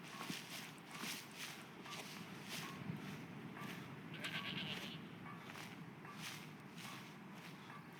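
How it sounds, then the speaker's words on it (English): Goats bleat in the video game Skyrim, a few short cries spread among footsteps and a soft wind background at moderate distance. "Hello, goats."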